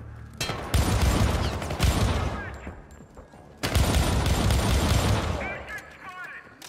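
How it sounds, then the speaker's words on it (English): Punchy gunfire from the weapons in the 2012 first-person shooter Syndicate, two loud sustained bursts of rapid shots with a brief lull between them, alone with no talk. "the guns are pretty satisfying to shoot. These have nice recoil, they sound nice and punchy"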